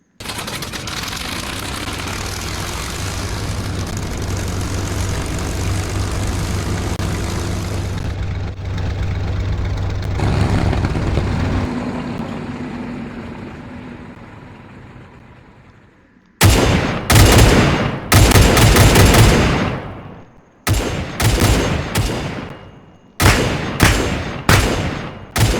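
A Hawker Hurricane fighter in the Arma 3 video game with a flying mod, its piston engine droning loud and steady, then fading away, followed by several loud bursts of machine-gun fire.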